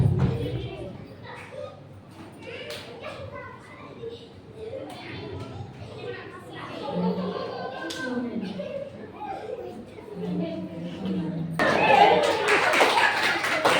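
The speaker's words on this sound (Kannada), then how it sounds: "ಚಪ್ಪಾಳೆ ಕೊಡ್ರಿ ಜೋರಾಗಿ" A church group at Aashirwad Church, Laxmeshwar claps hands during a game, with scattered light claps under talk that swell into a burst of loud applause near the end.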